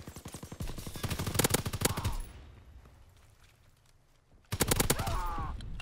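Rapid automatic fire from the Volk rifle in a World War II video game, two loud sustained bursts separated by a quieter lull, close and punchy.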